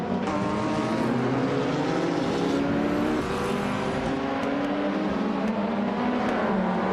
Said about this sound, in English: the race kicks off at the Circuit du Var with a tricky chicane